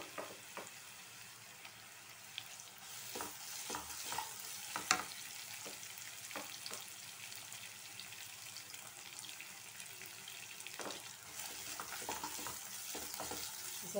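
Garlic and ginger fry in a pan for Schezwan sauce, giving a soft, steady sizzle broken by frequent stirring scrapes and clicks, with nobody talking.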